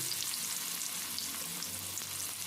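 Chopped onion fries in oil with whole cumin and a bay leaf, a faint, steady sizzling hiss with soft crackles heard close and alone, no talking.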